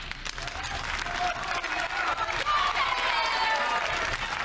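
Studio audience of a National Lottery quiz show clapping and cheering, a dense burst of applause that swells and stays lively throughout with some crowd voices underneath.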